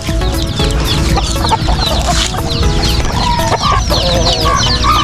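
Native hens and their newly hatched chicks cluck and peep nonstop at close range. The overlapping calls form a dense, lively farmyard chorus.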